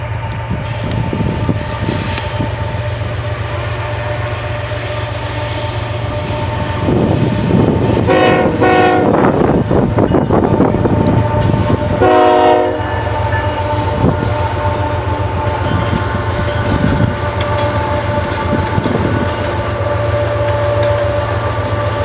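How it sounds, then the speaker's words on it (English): A train rumbles steadily past near a river rafting spot, its horn sounding in a few clear blasts over a constant low rolling drone. "you want to see this train?"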